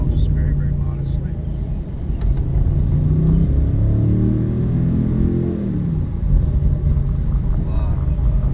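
A 2019 BMW M850i Convertible's engine and exhaust rumble loudly and steadily, with rising revs in the middle of the run and a continuous deep drone throughout.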